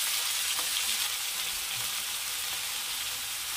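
Peas and carrots sauté in oil in a pan for upma, a steady bright sizzle with faint stirring scrapes, close and continuous, with no one talking.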